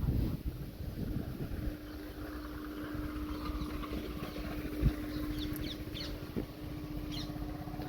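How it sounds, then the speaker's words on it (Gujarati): Wind blows steadily in a low, rumbling rush with gusty buffeting against the microphone, faint and otherwise quiet. "પવન બહુ જોરથી ફૂંકાઈ રહ્યો છે"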